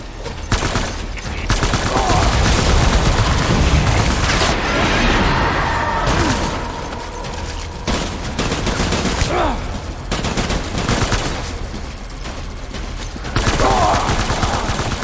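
Sustained gunfire rattles through a Death Stranding Director's Cut battle, with dense machine-gun bursts and scattered heavy booms keeping up for most of the stretch, and faint voices in the background.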